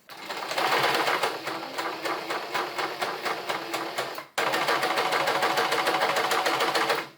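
Sewing machine stitching through shirt fabric with black top thread, running as a steady rapid mechanical whir of needle strokes, loud and close, with one brief pause partway through before resuming at full speed.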